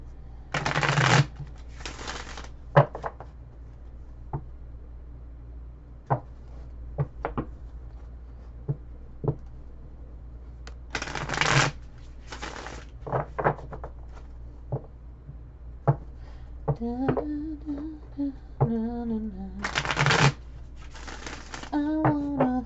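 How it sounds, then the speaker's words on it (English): A deck of playing cards is split into two halves and riffle-shuffled together in several quick, close, crisp bursts separated by quiet gaps, with a brief hummed tune near the end. "I'm going to break this up into two and shuffle it, and then I'll shuffle them together."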